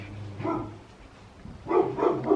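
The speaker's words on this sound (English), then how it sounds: "Literally no idea what they're even barking at." Two bursts of dog barking, several quick barks each, from nearby dogs with a short quiet gap between them.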